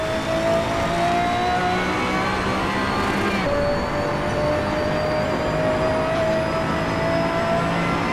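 Pagani Zonda R race car engine in Assetto Corsa on the Nordschleife, a loud continuous high-revving whine with steady gear-shift steps and rising pitch, no talk.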